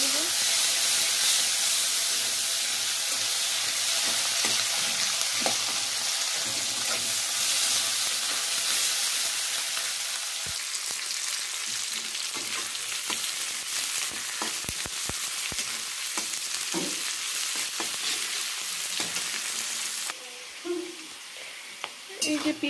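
Onion and garlic frying in a pan, giving a continuous loud sizzle and hiss with occasional stirring scrapes, close up and steady throughout, with a brief voice near the end.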